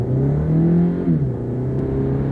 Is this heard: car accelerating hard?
yes